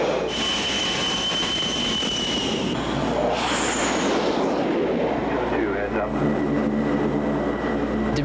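Jet aircraft launched by catapult off the bow of an aircraft carrier flight deck, a loud sustained roar and rushing blast with a high whine that surges and fades, steam and machinery noise beneath, with speech in the background.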